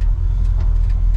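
A 1954 Chevrolet Bel Air on its first drive, a loud close engine and road rumble with steady low drone and brief rattling tire noise, with no talking.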